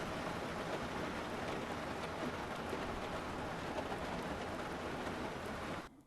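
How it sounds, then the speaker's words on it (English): Heavy rain in the UBOAT submarine video game, a dense, steady broadband downpour hissing loudly and evenly for several seconds before cutting off abruptly at the end, with no talk. "Oh, it's raining a lot."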